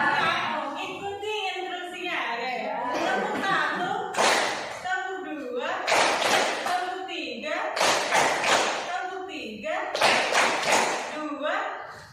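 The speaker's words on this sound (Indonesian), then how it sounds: "Oke, coba tepuk 1, tepuk 2, tepuk 3" A group in an academic supervision coaching session claps in short counted bursts of one, two and three claps, the sharp claps separated by a leader's spoken instructions.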